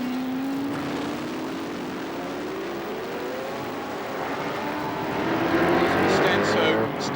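Elfin MR8 Formula 5000 race cars at Oran Park in 1979 produce a loud, continuous engine drone whose pitch sweeps as the cars accelerate, swelling louder toward the end.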